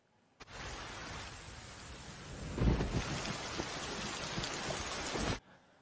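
Storm wind roars steadily around a rubber boat at sea, a dense rushing wash of wind and water that swells in the middle, then cuts off abruptly.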